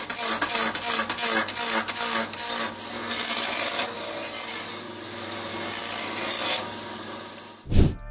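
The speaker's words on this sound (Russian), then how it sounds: "наблюдаем за обработкой массива дерева" Solid wood is worked by hand at a factory, giving a dense, continuous rasping and scraping with rapid rhythmic strokes. The sound eases off and ends with a single dull thump.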